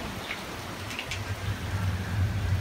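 Heavy rain pouring down outdoors during a stormy beach vacation on Hilton Head Island, a steady dense hiss of drops hitting surfaces that grows slightly louder toward the end, with no voices.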